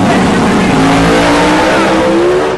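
A supercharged Pro Mod drag racing car roars at full throttle, a loud, continuous high-revving engine note that stays constant and close throughout, with no speech.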